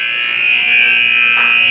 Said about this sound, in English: As the buzzer goes and the first period has ended